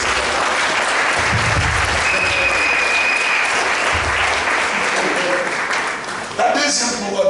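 Sustained applause from a congregation during a church service, steady clapping filling the room for several seconds, with scattered voices and a brief shout near the end.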